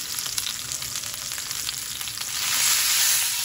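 Pork loin browning in a hot pan, a steady close sizzle with light crackling that swells louder toward the end.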